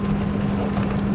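An Aqvaboats Luxrib 25 racing RIB motorboat running at about 48 knots, giving a steady engine drone with a strong low hum and rushing wind and water noise, continuous and close.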